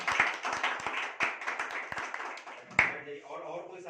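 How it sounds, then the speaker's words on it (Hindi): An audience at a Vestige business training session claps for Ram Ashish: scattered, uneven hand claps with sharp single strikes, mixed with voices talking over them. "राम आशीष सर के लिए एक बार जोरदार तालियां हो जाए।"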